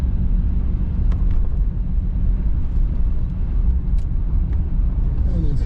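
A 1991 Cadillac Brougham D'Elegance drives along with a steady low road rumble and engine drone throughout, with light interior clicks and no talk.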